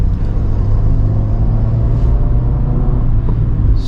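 Steady, loud engine and drivetrain rumble inside a 2021 Maruti Suzuki XL6 with automatic transmission on a test drive, continuous and close with no talk over it.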